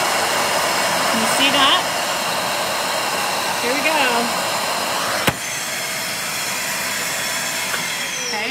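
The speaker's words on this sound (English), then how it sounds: "so I'm going to turn on my vacuum. It's going to be noisy." A vacuum forming machine's loud vacuum motor roars steadily throughout, close and continuous, while a person speaks briefly over the noise.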